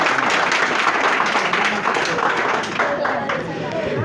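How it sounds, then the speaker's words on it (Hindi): A crowd at an Indian Independence Day gathering claps in dense, fairly loud bursts, the sound thinning slightly toward the end, with some voices mixed in. "ताली बजाना तो कस के बजाइए"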